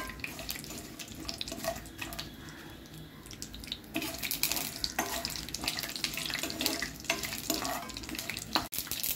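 Mustard seeds, curry leaves and peanuts hit hot oil in a kadhai for vegetable poha, bursting into a loud, close crackling sizzle that thickens and spits harder about halfway through, with no talking.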